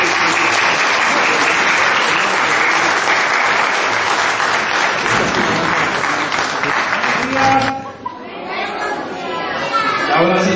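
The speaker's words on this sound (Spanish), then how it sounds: "Si le gusta, que le aplaudan." Loud, sustained audience applause at a children's storytelling event, with kids chattering and cheering through it before the clapping thins out and voices take over near the end.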